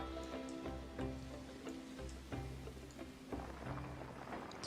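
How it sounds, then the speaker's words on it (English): Rain falling in Splatoon 3, a steady hiss of drops layered under the game's background music and effects, with no speech. "Oh, the rain is back."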